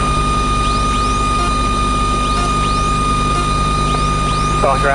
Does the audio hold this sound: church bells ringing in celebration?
no